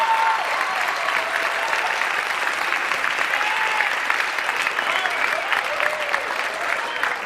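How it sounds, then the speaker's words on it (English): A live stand-up comedy audience claps in a dense, sustained round of applause that fills the room steadily from start to finish, with no voice on top. "Round of applause."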